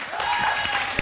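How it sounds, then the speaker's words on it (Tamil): Applause from an audience at a stage event, a steady wash of many hands clapping at once, fairly close and filling the moment without gaps. "கைத்தட்டுங்க"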